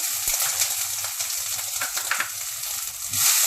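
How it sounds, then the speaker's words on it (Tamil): Chana dal with green and red chillies sautéing in hot oil for a karpooravalli chutney, a continuous bright sizzle with low sputtering pops, close and steady. "அதுலேயே கடலைப்பருப்பு பச்சை மிளகா சேப்பு மிளகாவை சேர்த்து வதக்கிறேன்"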